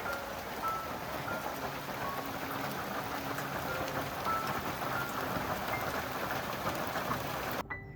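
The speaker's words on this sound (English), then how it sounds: "It is hailing!" Steady, dense patter of hard pellets striking a surface, a continuous hiss of impacts that ends abruptly at the close.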